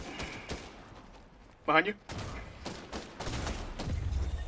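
Gunfire in the Fortnite battle royale game: a few sharp shots break through excited talk from players, with one louder burst near the middle and busier rattling toward the end.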